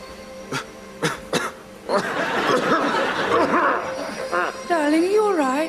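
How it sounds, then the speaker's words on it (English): A few sharp coughs from a man close by, then a stretch of talking and vocal noises, ending in a rising and falling sing-song voice. "It's just a cough."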